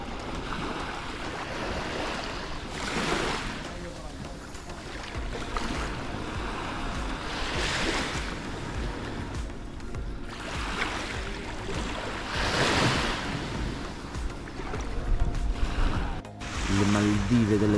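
Waves wash repeatedly onto an Ibiza beach in rolling surges, with wind noise buffeting the microphone and faint voices in the background.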